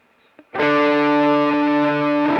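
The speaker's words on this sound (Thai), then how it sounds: "เติมโอเวอร์ไดดูบ้างว่าเป็นไงบ้าง" An Ibanez SV470 electric guitar played through overdrive distortion, sounding a single loud sustained chord that rings out evenly after a faint pick noise and a short pause.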